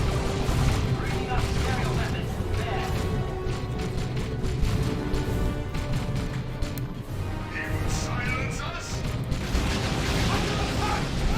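Dense, continuous battle noise from Dawn of War 2 with rattling gunfire and booming explosions, Noise Marines under fire, steady and loud throughout with a commentator's voice running underneath.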